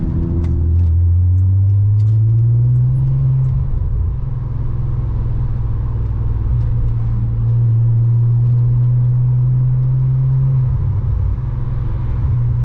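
A Nissan R32 drives in slow traffic on back roads, its engine a loud, close, steady low drone that rises in pitch, then holds an even rumble with slight shifts.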